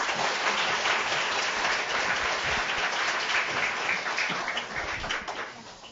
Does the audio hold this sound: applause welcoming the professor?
yes